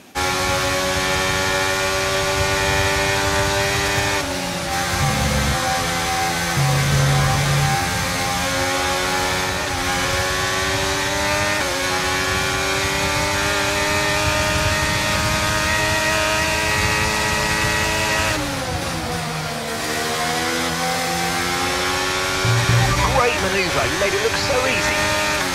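Race cars roar through a racing video game, a steady, loud engine drone with pitch shifts as they overtake, running continuously under a voice talking over much of it.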